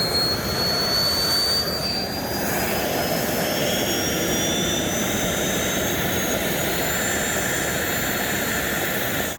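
A homemade turbo jet engine built from a burn barrel runs continuously, a loud, steady roar with broadband rushing noise and a faint high whine that rises slowly throughout, with no talking.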